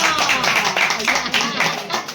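A small group claps for the winner of a cold-drink eating and drinking contest among friends in Assam, a quick, uneven patter of hands running under continuous talk.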